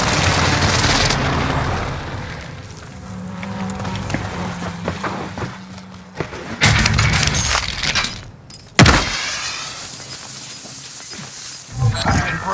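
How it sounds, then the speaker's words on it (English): Precision airstrike explosions in Call of Duty Warzone on Rebirth Island: loud, broad booming blasts and rumbling impacts, with sharp bursts near the middle and end over continuous heavy game noise. "Enemy precision airstrike"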